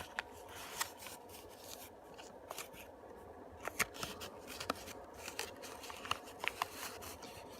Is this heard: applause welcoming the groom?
no